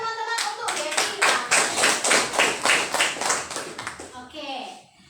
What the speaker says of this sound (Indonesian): berikan tepuk tangan teman-teman untuk Gevira.